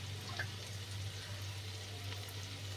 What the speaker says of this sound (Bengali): এই বাটির মাপে 3 বাটি জল দেবো আমি